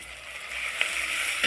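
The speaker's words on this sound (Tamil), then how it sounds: "இப்போ நம்ம அரைச்சி வச்ச மருதாணியை போட்டு நல்லா வதக்கிக்கலாம்" Ground henna paste sautéing in a pan, a steady soft sizzle with broadband hiss throughout and a couple of faint ticks, close and alone without talk.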